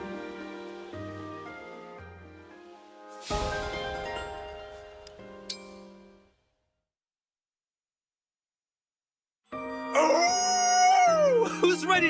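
Characters in the video game Fire Emblem Engage howling together at a party, with layered dog-like howls and yips over game music, broken by a silent gap before a louder, rising howl.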